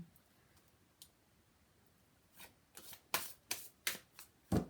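A deck of oracle cards is shuffled and cut, starting with faint riffles and ending in a run of sharp, close card snaps that grow louder toward the end.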